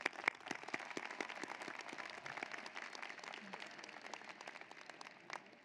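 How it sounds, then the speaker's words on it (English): Distant, thin applause from a large crowd at a university commencement ceremony, individual claps audible as sharp scattered snaps, steady throughout and faint overall. "One more time, let's applaud them."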